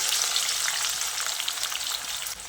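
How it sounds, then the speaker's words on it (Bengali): Chopped onions fry in hot white oil, a steady, dense sizzle that stays loud and close for the whole stretch with faint stirring crackles, easing slightly at the very end; no one speaks. "এবার তেলটা ভালো করে গরম করে নিয়ে এর মধ্যে কেটে রাখা পেঁয়াজগুলো দিয়ে দিচ্ছি।"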